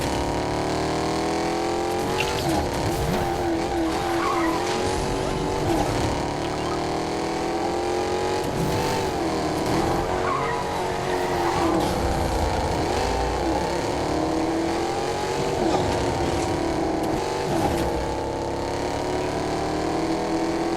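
A silver car is driven along a road in the video game Fortnite. The engine drones steadily with repeated revving rises and falls, loud and continuous the whole time.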